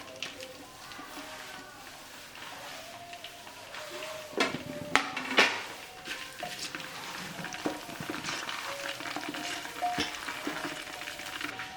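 Cinnamon, cardamom and nutmeg crackle in hot oil as a spoon stirs and scrapes the pot, a continuous sizzle broken by a few sharp metallic knocks near the middle.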